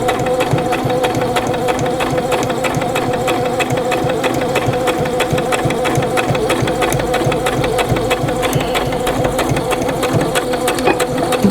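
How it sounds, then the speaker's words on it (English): A sewing machine runs steadily as it stitches across the opening of a fabric eyeglass or pencil case, its motor humming with a fast, even needle chatter that stays loud and close throughout. "I'm stitching across to catch the opening"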